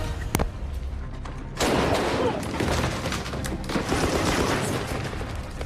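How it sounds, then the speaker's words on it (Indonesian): Brutal gunfire from the film Gemini Man: a sharp early shot, then from about a second and a half in, a loud, dense fusillade of overlapping shots and booms that keeps going. "Henry dan Danny pun dihujani tembakan yang sangat brutal"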